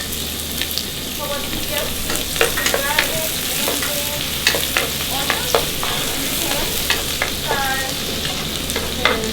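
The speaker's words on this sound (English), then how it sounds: "Mixing it up, frying until they start getting like a nice golden color." Garlic sizzles and crackles steadily in hot oil, with a utensil scraping and stirring through it in repeated strokes, close and continuous.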